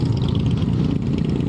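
Several motorcycles rumble together on a group ride in traffic in Long Branch, New Jersey, including a Harley; a steady, dense low engine drone runs unbroken and close throughout.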